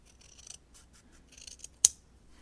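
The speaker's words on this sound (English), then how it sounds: "I don't mind using the little scissors because I like that you can just chop." Small scissors chopping scrap paper, several soft snipping and rustling strokes followed by one sharp, close snip, heard alone in a quiet room.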